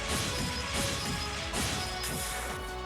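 Second Form Gale sword skill from the Trails of Cold Steel video game, a loud burst of rapid slashing impacts and crashing hits with whooshing swipes, sounding alone without talk.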